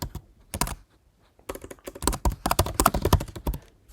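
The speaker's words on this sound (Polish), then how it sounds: "w internecie wpisujemy sobie przeglądarka Chrome" Fingers type on a computer keyboard entering a web search for the Chrome browser, with quick close key clicks in bursts, a short pause, then a dense steady run of keystrokes, with no talk.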